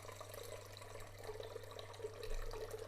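Lukewarm water being poured for sourdough focaccia dough, a soft steady trickling stream running into a container, faint and close with a low hum underneath.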